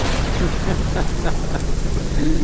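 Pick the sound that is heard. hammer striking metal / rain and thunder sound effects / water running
rain and thunder sound effects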